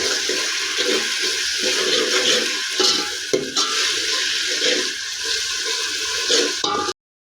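Green chillies and ginger hit hot oil with frying onions and are stirred, giving a loud, steady sizzle with scraping stir noises that ends abruptly.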